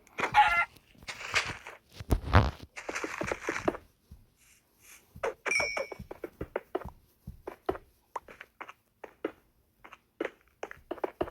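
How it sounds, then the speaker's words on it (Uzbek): A Minecraft chicken clucks in short, sharp bursts, a steady run of quick clicks and clucks following some louder opening noises, heard alone without talk. "Qoch tovuq."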